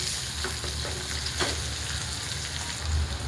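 Onion frying in hot oil in a pan, a steady close sizzle with occasional scraping stir strokes across the surface, no talk.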